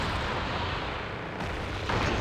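Mortar artillery fire in a strategy video game: a dense roar of blasts and rumbling explosions, loud and continuous over the short stretch, with no voices.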